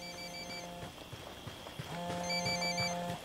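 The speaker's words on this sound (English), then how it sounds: "Phone. That's no IED. It's ringing too much." Electronic phone ringtone repeating in two bursts in Ghost Recon Wildlands at a cartel base, a tonal trill over faint thuds and ambient game noise.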